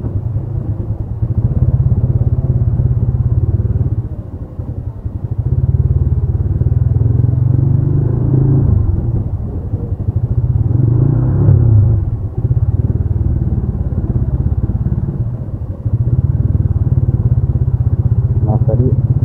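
A manual-clutch motorcycle engine drones loud and close while being ridden, a steady low rumble that dips briefly a few times as speed and revs shift.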